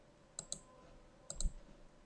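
Computer mouse clicks while working in Microsoft Outlook 2013: two pairs of quiet, crisp clicks, separated by a short pause, in an otherwise near-silent room.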